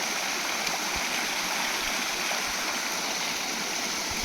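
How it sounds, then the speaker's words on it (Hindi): Steady broadband rush of a waterfall on the Ganga at Chitrakoot, continuous and fairly loud with no pauses, filling the scene alone without any voices. "ये सामने है वाटरफॉल, जो कि कुछ इस तरीके का दिखाई दे रहा है।"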